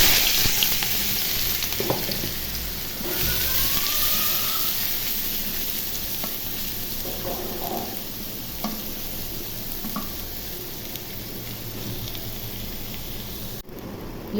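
Onions frying in hot oil for a rohu fish bhuna, a continuous close hiss of sizzling with occasional light stirring clicks and scrapes throughout.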